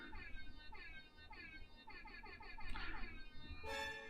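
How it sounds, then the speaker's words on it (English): Rapid bursts of a brassy air horn blare in quick repeated blasts, ending with one longer, louder honk, over a faint low rumble. "I got the air horn emote explosion."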